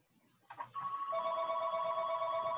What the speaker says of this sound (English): that's just my home phone